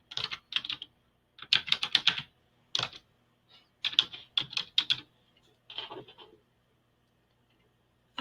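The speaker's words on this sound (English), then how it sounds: "I'm going to type in this box, Meet the Teacher." Keys clatter on a computer keyboard while text is typed into a box in Google Slides, arriving in quick close bursts of clicks separated by short pauses, with no talking.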